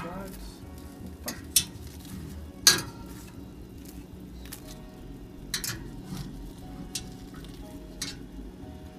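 A baked omelette is flipped in a pan with sharp metallic clinks of a utensil against the pan over a faint sizzle, a few scattered knocks and a voice talking.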